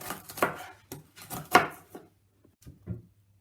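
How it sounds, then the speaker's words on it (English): A knife slicing a celery stick on a chopping board, about ten crisp, uneven thuds and crunches in quick bursts, close and clear, with the pace slowing toward the end. "Do this until the whole celery stick has been cut"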